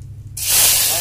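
Onion dropped into hot oil with toasted cumin seeds, an abrupt loud hissing sizzle bursting in after a brief quiet moment and holding steady at close range.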